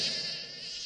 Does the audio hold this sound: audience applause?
no